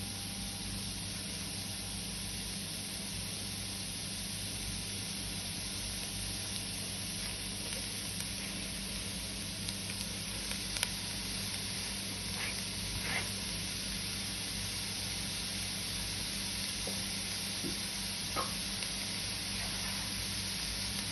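Vegetables sautéing on high flame, a dense steady sizzle and hiss filling the whole stretch, close and loud with a few faint clicks of a utensil.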